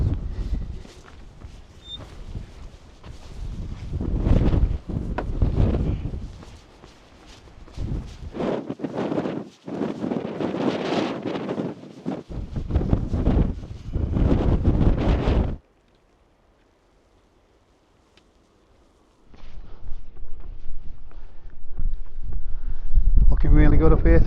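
Strong wind gusting across an exposed hill ridge near Back Tor above the Edale Valley, roaring loudly against the microphone in heavy buffeting bursts, with a brief lull partway through before the gusts return.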